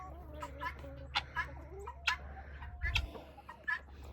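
Chickens clucking and chirping nearby, scattered short calls at irregular intervals over a low background hum.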